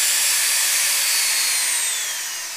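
A Dremel 395 rotary tool with a broken coupler runs on its own, a loud, steady high-pitched motor whine that slowly drops in pitch while the shaft stays still.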